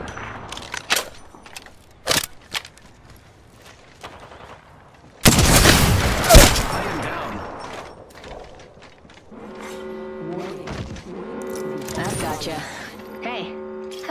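Gunfire aimed at the player in the video game Apex Legends: scattered sharp shots, then a loud sustained burst of automatic fire, followed by mechanical weapon and shield sounds with a voice talking over parts.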